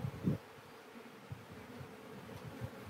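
Honey bees being shaken into a queen cell builder, a low, soft buzzing hum under a few dull knocks and bumps, fairly faint and close, with no voices.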